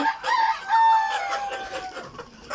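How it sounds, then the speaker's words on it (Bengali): An Egyptian Fayoumi rooster crows loudly and close, one long drawn-out call among farm chickens, with a few clucks from the flock around it. "আমাদের অরিজিনাল ফার্মি মুরগিগুলো আমরা রাতাগুলো বাছাই করে নিছি রাতাগুলো মাচাই দিয়ে দিছি ওই মুরগির সাথে"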